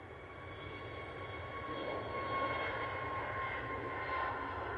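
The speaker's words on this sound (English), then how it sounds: "we do have the Etihad on finals" An Etihad airliner on final approach gives a steady, distant engine roar with a faint whine, swelling gently and holding broad and even throughout, with no voices.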